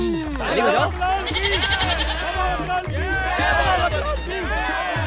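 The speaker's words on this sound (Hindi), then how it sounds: "बकरा भाग गया।" A goat on the loose keeps bleating in repeated wavering cries, mixed into a noisy scene of many people shouting and talking close by.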